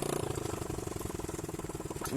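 A Swaraj tractor engine chugs along a highway with a fast, even diesel thump, fairly faint and steady throughout.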